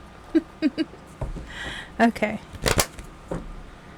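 Several brief crisp flutters of tarot cards being shuffled, with a short spoken word partway through and some soft handling noise between bursts.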